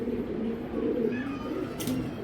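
Pigeons coo softly in a loft of breeding racers, low repeated calls over a constant background hum.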